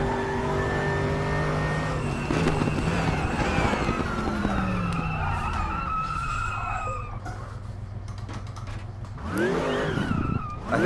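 Race car engine in the Raceroom sim racing game, driven hard with sweeping revs through the gears and tyre squeal in the corners, loud and continuous with no voices.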